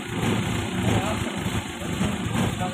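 Engine running at a steady idle during an RPM and temperature check, a continuous low rumble with a constant high-pitched whine on top, moderately loud throughout with no clear changes.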